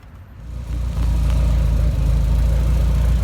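A Mitsubishi Starion engine starts up and settles into a steady, loud idle with a low, even rumble that holds without revving.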